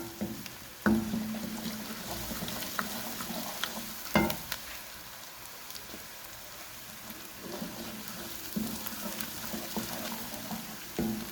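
Ginger garlic paste sizzles and fries in a pan for sarson ka saag, a faint steady crackle with occasional louder knocks from stirring.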